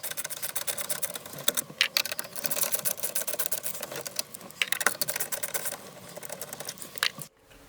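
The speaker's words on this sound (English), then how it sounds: "using the T10 bit, unscrew the 4 screws around the radio" A T10 bit backs out the screws around the radio in a 2006 Volkswagen Passat, producing fast, dense clicking and ratcheting close up with no talking, ending abruptly.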